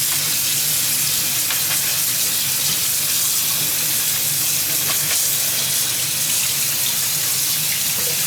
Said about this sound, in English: we're going to put them in the colander and give them a wash